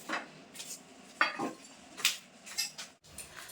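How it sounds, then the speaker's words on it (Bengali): A knife cuts through a whole rohu fish, giving a few soft scraping strokes and sharp clinks against the board or plate, quiet and close, spread irregularly with brief pauses. "এখন মাছটা কেটে নেব"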